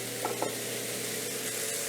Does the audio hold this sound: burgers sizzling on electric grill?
yes